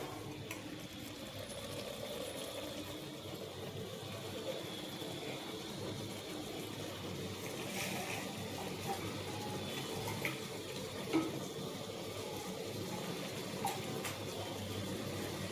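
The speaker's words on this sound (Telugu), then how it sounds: "ఇంకా వాటర్ వేసుకుందాం." Water poured into a pan of frying chicken curry gives a soft, continuous watery splash and sizzle with faint stirring, quiet and close, with occasional small clinks.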